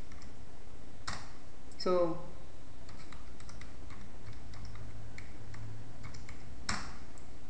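A new password typed on a computer keyboard: quick, close key clicks in short bursts over a steady background hiss, with one brief spoken word near the start.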